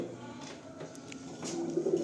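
Madrasi pigeons in a loft coo softly, with a low throaty cooing swelling near the end over faint background rustles.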